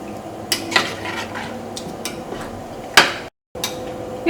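A spoon stirs mango pulissery curry with water and salt in a pot, giving a few scraping strokes and sharp metallic clinks at close range, separated by quiet pauses.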